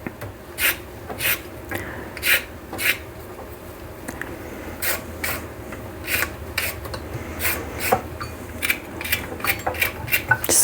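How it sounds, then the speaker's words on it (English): A carrot is peeled over a kitchen sink, giving a steady run of short, close scraping rasps that repeat in a brisk, even rhythm with brief pauses between strokes. "Now I've got a carrot, but I need to peel it."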